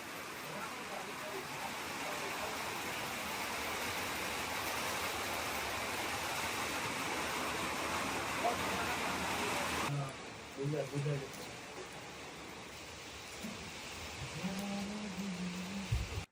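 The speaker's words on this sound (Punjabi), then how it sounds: "ਮੀਂਹ ਬਹੁਤ ਵੱਧ ਗਿਆ" Steady heavy rainfall in the mountains at Auli roars for most of the stretch, then eases abruptly; afterward a few scattered sounds and a low hum emerge near the end.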